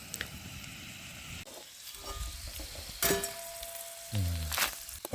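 Food frying in hot oil over a camp stove in a forest setting: a faint background hiss, then bursts of sizzle and a few metallic clinks, quiet overall, with no talking.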